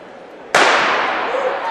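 A starting gun fires at a high school girls' track race, one loud, sharp crack with a ringing tail that follows a quiet moment of waiting.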